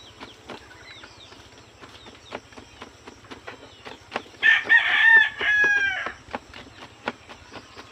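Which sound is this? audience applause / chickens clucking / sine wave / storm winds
chickens clucking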